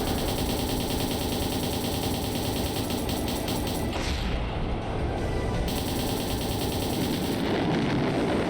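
Missiles firing in the video game Trails in the Sky the 3rd, a dense, loud barrage of rumbling launches and blasts filling the whole stretch, with a brief dip midway before the roar resumes.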